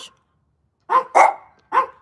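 Dogs at a dog park let out three sharp, loud barks, the first alone and the last two in quick succession after a pause, in an otherwise quiet setting.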